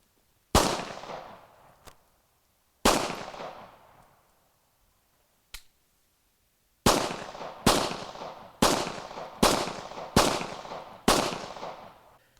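A Japanese Type 14 pistol fires nine loud, sharp shots with ringing decay: two spaced at first, a faint click or two between them, then a quicker run of six evenly spaced rounds.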